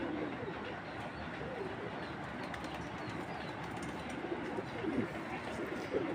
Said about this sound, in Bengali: খুব সুন্দর কবুতরটা,